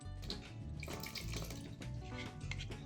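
Milk and vinegar are poured into a cup while making chocolate cake batter, with a steady, close liquid trickle and splash that runs continuously, with no voices.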